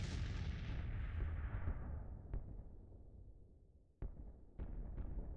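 Howitzer artillery fire in the Civil War strategy game Grand Tactician: a heavy boom rolling off into a long fading decay, followed by a faint thud and then three sharp cannon reports near the end.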